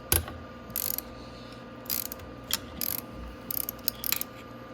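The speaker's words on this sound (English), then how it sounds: "we're going to remove all those acorn nuts" Ratchet wrench working acorn nuts off a Venom X22gt 250cc motorcycle cylinder head during a top-end rebuild: short bursts of quick clicking pawl strokes, several separate runs with pauses between, close and fairly quiet.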